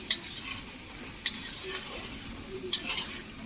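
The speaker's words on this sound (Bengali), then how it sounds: "মশলার সঙ্গে একটু জল দিল, জল দিয়ে তারপরে এখন মশলাটা কষানো হবে।" Masala with a splash of water sautéing in a pan for a Bengali chicken dish, a low steady sizzle with three sharp utensil clinks against the pan spaced about a second apart, fairly quiet and close, no talking.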